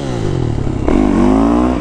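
A dirt bike engine revs hard and holds against the rev limiter, a loud close buzzing drone that stutters and then climbs to a sustained high pitch, with no talk over it.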